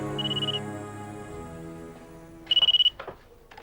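A telephone rings in short electronic trill bursts, one faint ring at the start and a louder, nearer ring later, set over a sustained musical drone in a Hindi suspense TV serial.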